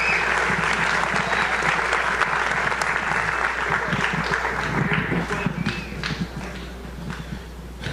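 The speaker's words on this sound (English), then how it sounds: "Let's give them a round of applause" Festival concert audience applauding high school music teachers, a loud sustained roar of many hands clapping that gradually thins out toward the end, with some voices murmuring underneath.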